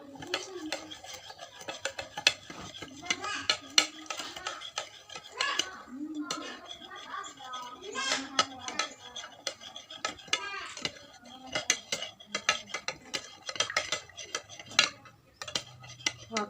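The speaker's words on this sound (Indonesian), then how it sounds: "memasukkan 2 sendok garam ke dalam gelas dan menyalakan stopwatch sambil mengaduk" A metal spoon stirs salt dissolving in water in a glass, giving rapid, continuous clinking and scraping against the glass. It sounds close and busy, with faint voices in the background.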